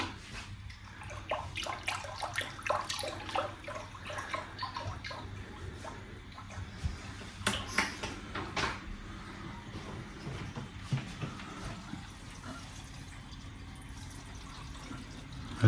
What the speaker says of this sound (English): As the water's starting to come back into the sump.